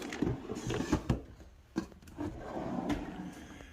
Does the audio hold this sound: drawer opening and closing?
yes